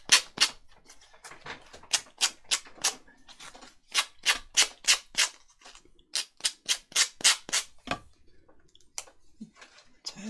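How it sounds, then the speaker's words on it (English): Sandpaper is rubbed around the edges of paper swing tags in quick bursts of short, scratchy strokes, close up and crisp, with brief pauses between runs of about a dozen strokes. "So I'm just going to get some sandpaper and just go around there and get rid of the excess."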